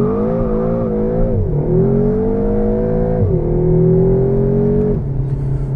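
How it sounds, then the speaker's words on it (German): A 2020 Seat Leon Cupra with 290 PS accelerates hard to 100 km/h from inside the cabin, engine note rising through the revs in three climbs, each broken by a quick gear change, loud and steady with no talk. "Also bremse ich, bin kurz ruhig und beschleunige einfach auf 100 durch."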